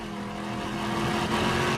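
A Mercedes C63 with a naturally aspirated 6.2-litre V8, a deep continuous engine roar that swells slightly toward the end, heard alone at moderate level.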